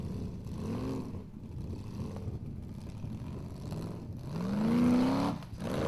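Formula Offroad car engine at full throttle on a steep climb: a revving engine drone that swells near the end into a loud rising whine before cutting off, heard at some distance.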